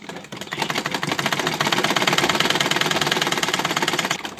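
A sewing machine stitches a baby frock sewn from an old nightie, giving off a steady, close, rapid mechanical whirring and clatter that runs for about four seconds with no talking.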